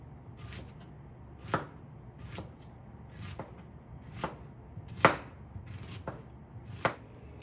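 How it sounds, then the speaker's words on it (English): A knife chops vegetables such as green onions, sweet onions, tomatoes, garlic and ginger on a cutting board, about eight separate knocks at uneven intervals, close and clear with no talking. "So here's all of my vegetables chopped up."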